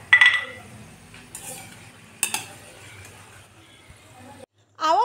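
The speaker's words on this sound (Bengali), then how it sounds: "কটকটিগুলো পারফেক্ট হয়েছে কি না এটা কিন্তু আওয়াজে বোঝা যাবে।" Crisp deep-fried kotkoti (madan bhaja) snacks are lifted from hot oil, clattering and clinking sharply against a metal utensil in a few close bursts over soft sizzling, followed by a brief voice at the end.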